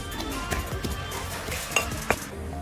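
Garlic tossed into a pan of coarsely cut red chillies for a raw mango thecha, with scraping stirs, a few metallic clinks of utensil on pan and a light sizzle.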